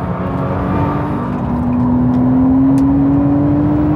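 A Nissan GT-R sports car driving fast, a loud steady engine drone that climbs slightly in pitch as it accelerates, heard close from inside.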